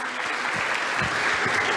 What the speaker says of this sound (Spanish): Un aplauso más para el pastor.